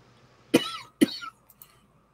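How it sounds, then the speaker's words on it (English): Two sharp, harsh coughs close to the mic, a short pause between them, followed by faint small sounds in an otherwise quiet room. "This cough sucks."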